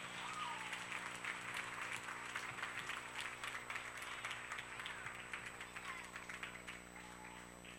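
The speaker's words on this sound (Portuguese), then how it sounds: "Salva de palmas, irmãos" A church congregation breaks into a round of applause, continuous crisp clapping heard faintly at a distance over a steady electrical hum.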